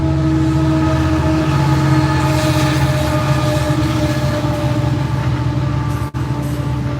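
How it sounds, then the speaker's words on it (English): A passing train rumbles loud and close throughout, its horn sounding as a sustained tonal blast over the steady roar of the railcars. "Just a minute, this train."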